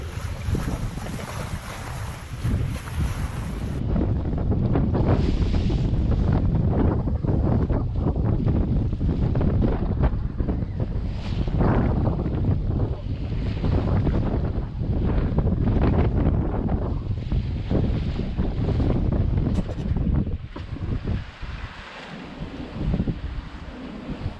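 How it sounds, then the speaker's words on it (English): A sailboat surfs down waves off Cornwall in strong wind, with a steady loud rush of water and wind buffeting the microphone, surging swells rising and falling throughout with no voices. "Sailboat surfing."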